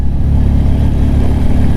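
A motorcycle engine labours in low gear on a snowy mountain road between Jispa and Pang in Ladakh, a loud, steady, close drone with constant low rumble throughout.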